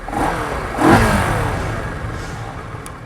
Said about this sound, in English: Thumb the parallel twin motor to life and you don't get a typically smooth Japanese idle